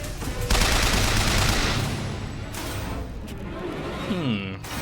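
Rapid submachine gun fire in BioShock Infinite rattles loudly and continuously for several seconds, an unbroken close burst that thins out toward the end, with a few whooshing effects layered over it.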